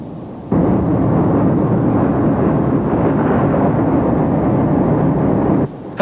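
Helicopters buzzing over Beijing's city centre near Tiananmen Square during the military crackdown: a loud, steady rotor roar and rumble that starts abruptly, holds for several seconds and then drops away, with no voices.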